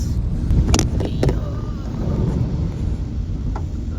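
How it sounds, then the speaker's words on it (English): A KSRTC bus passes on a road in Kerala: a heavy low engine rumble runs throughout, mixed with strong wind buffeting on the microphone and a few faint higher tones. "KSRTC bus, Kerala's transport"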